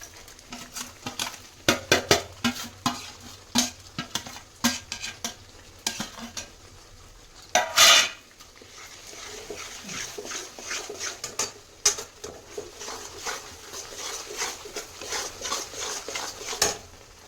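Spoon stirring a thick adadiya mixture of cashews, almonds, raisins and edible gum in a pan over low gas, with repeated scraping and soft sizzling, one louder clatter midway, no talking.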